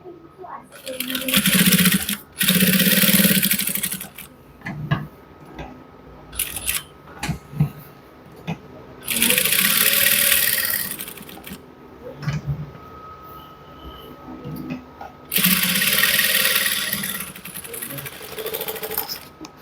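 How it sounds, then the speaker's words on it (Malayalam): A sewing machine stitches a coat pocket in several loud sustained runs, with pauses and rustling between them and a voice talking in the gaps. "പോക്കറ്റിനെ ഇങ്ങനെ സ്റ്റിച്ച് ചെയ്തെടുക്കും"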